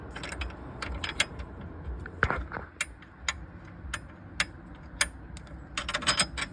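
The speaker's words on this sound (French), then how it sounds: "Là, démonter les deux vis qui tiennent l'échappement." A ratchet clicks in quick bursts while loosening the two exhaust screws on a 2025 Harley-Davidson Road Glide CVO ST, close-up and fairly faint, with scattered metallic ticks and a soft creak.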